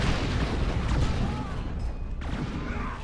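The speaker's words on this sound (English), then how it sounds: "Dying units explode in a big old explosion, damaging enemies, knocking them back" Dying units explode in big blasts during a Warhammer 40,000: Dawn of War 2 battle between Eldar and Chaos Space Marines. Heavy booms and crackling bursts roll over a dense battlefield din, loud and continuous throughout.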